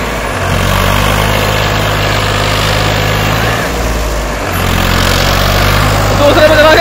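A 2007 Farmtrac 60 tractor pulls a nine-tine tiller, its engine droning loud and steady close up, with a brief dip in revs midway.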